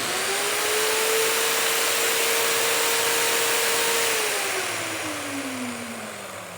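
A Barjack rotary polisher motor whirs at a steady high pitch, then slows and its tone drops as it winds down.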